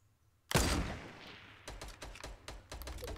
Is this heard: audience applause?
no